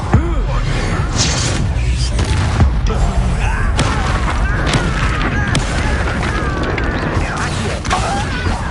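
Spell combat in a wizarding video game, with an Incendio fire spell cast amid a steady wash of whooshes, crackles and impacts. Booms and crashes layer over each other continuously, and voices speak briefly.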